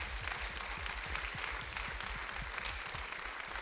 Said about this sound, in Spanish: Denle una ofrenda de palmas a nuestro Dios